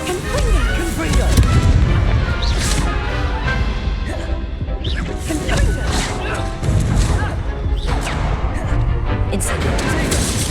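Incendio and Confringo spell blasts in the video game Hogwarts Legacy, loud repeated booming impacts and crashes over steady game noise, with a voice calling out over them.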